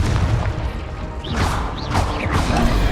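Magical spell blasts for Bombarda, Incendio and Confringo cast in the video game Hogwarts Legacy: loud booming impacts and whooshing bursts over a constant rumbling game soundscape, several hits in quick succession.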